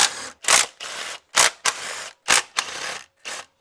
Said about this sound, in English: We'll just hit this with our little impact and see if it just wants to come off